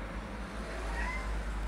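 A house cat meows faintly indoors, a short drawn-out cry against a low steady background hum, quiet and somewhat masked, with no talk.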